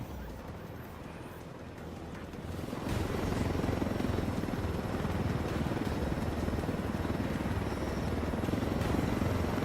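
A helicopter in the video game Ghost Recon Wildlands gives a steady, loud rotor and engine roar that swells about three seconds in and then holds at full strength, with no voices.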